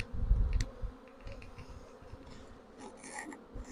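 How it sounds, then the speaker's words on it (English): Swarm of bees buzzing inside a closed box, a low faint hum with occasional rustles and thumps close by. "There's a lot of bees in here"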